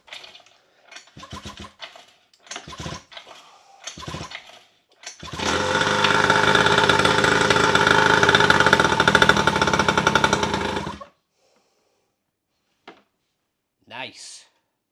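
A freshly built two-stroke engine on a mini moto quad, run on petrol with extra two-stroke oil, with the choke on. A few short pull-start attempts, then a loud buzzing rev for about five seconds that cuts off. Someone talks briefly between sounds.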